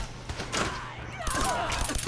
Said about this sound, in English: You can clearly hear that all these gunners are attacking each other.